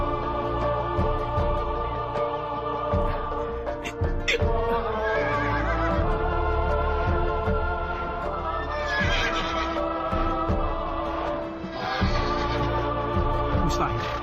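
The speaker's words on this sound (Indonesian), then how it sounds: "aku harus segera mendapatkan kuda-kuda kembar nan elok ini" Horses neighing and whinnying over a loud dramatic music score in a folk-legend television drama, repeated high whinnies rising above sustained orchestral tones for the whole stretch.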